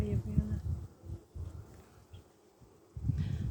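Honey bees humming in an open hive during an inspection of capped brood, a low buzzing that swells and fades close by in bursts, with quiet voices and handling noise nearby.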